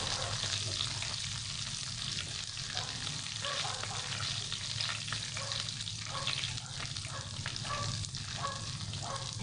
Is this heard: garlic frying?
yes